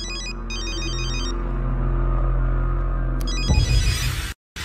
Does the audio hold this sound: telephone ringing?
yes